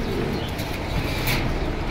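Pigeons cooing among caged birds at a pigeon market stall in Jinjira Bazar, a steady soft cooing mixed with busy market background noise, with no speech in between.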